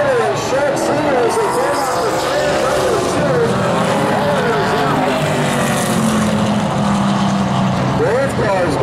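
Super late model race cars lapping a paved speedway, a loud continuous engine roar with rising and falling pitch as cars sweep past, with a commentator's voice over it.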